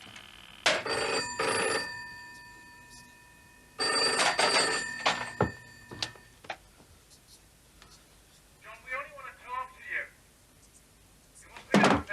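An old landline telephone rings in a 1989 British soap drama scene, two loud close bursts of bell ringing with a pause between, followed by faint knocks and a brief voice.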